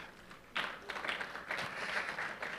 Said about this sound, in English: let's put our hands together for